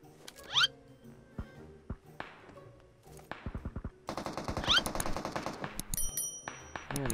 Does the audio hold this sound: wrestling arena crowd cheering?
no